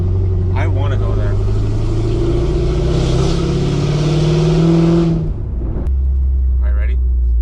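Mercedes-AMG car engine revving under load, a loud, deep droning roar that climbs and holds for several seconds before dropping off abruptly, with voices talking over and after it.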